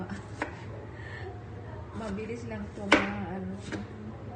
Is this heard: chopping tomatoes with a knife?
yes